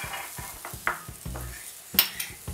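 Green pigeon peas roasting in a lightly oiled pan, heard as quick metallic scrapes and clinks of a spoon against the pan over a soft sizzle, close and fairly loud, with no voices.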